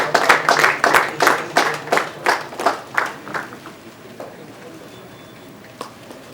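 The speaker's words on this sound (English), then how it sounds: "So big round of applause to Mr. Bhimal Ghosh." An audience at a press conference applauds in a brisk, rhythmic burst of clapping that swells, then thins out and fades into quiet room noise within a few seconds.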